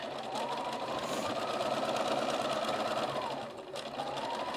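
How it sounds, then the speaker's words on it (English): A sewing machine stitches and back-stitches pieces of a quilt, a steady close whirring run that pauses briefly near the end and then starts again. "Just sew a couple and back stitch them, and do the same thing here."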